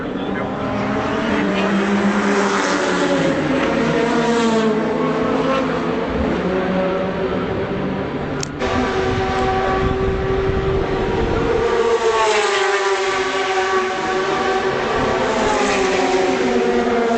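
Audi race cars at the 24 Hours of Le Mans 2013 roar past in a continuous loud stream of high-revving engine noise with rising and falling pitch sweeps, a commentator talking over the din.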